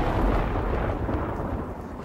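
Thunder rolls through a storm as a loud, deep, continuous rumble that fills the whole stretch without a break.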